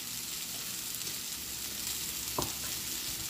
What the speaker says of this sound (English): just go let it saute a little bit more